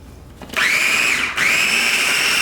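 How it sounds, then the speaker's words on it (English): A blender whirs up loudly, chopping Rotel tomatoes and peppers with a high, whining motor tone that dips briefly mid-run before surging back and holding steady. "Blend it up really good."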